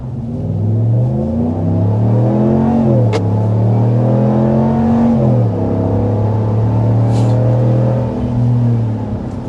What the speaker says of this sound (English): there is an acceleration from a full stop